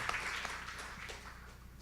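Faint applause from a conference audience in Seoul, a steady wash of many hands clapping at a distance, fairly quiet and even throughout.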